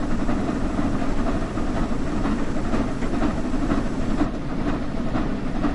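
Steam locomotive in Train Sim World 6 on the Birmingham to Crewe route, a steady loud chuffing and rolling rumble with faint rhythmic rail clatter throughout, no voices.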